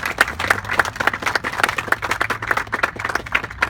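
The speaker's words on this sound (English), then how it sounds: "I'd like the rest of you to give them a round of applause." A small outdoor crowd at a memorial during a congressional campaign launch applauds veterans, with individual claps distinct and fairly close in an uneven rapid patter, and a low background rumble underneath.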